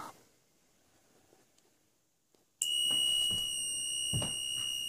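After a quiet start with faint clicks, a fire alarm control panel's alarm suddenly blares when a manual call point is pressed, a loud continuous tone holding steady to the end.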